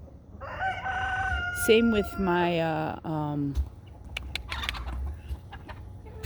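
Bantam roosters and other chickens crow and cluck close by outdoors, a few loud crows rising over steady background clucking and yard noise.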